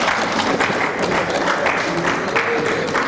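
An audience applauds at a talk show event, steady dense clapping filling the whole stretch at a fairly loud level without a clear break.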